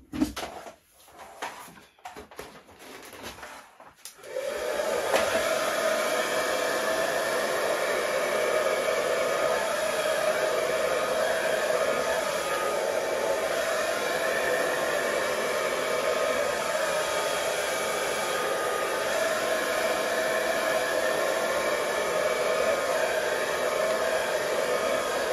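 Hair dryer blowing acrylic paint across a large box canvas for a Dutch pour colour wheel, a steady loud whoosh running continuously for about twenty seconds after a few brief clattering handling sounds at the start.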